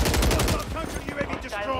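Rapid gunfire from an assault rifle in Warzone shoots at a counter UAV in the sky, a close, loud burst of fast repeated shots followed by a few more quick rounds.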